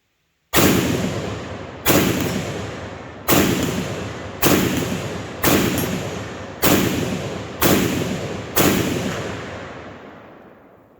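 Eight loud gunshots are fired at a still target 100 yards away in the dark, spaced evenly about a second apart, each a sharp crack that rings out and decays over open ground.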